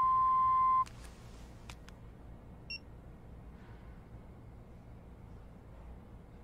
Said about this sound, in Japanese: ピーという発信音の後にお名前とご用件をどうぞ。